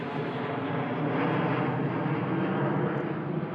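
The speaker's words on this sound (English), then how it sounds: "I'll just let the plane go by." A fixed-wing airplane passes close to an airport, its steady broadband engine roar filling the scene and swelling slightly in the middle before easing, with no voices over it.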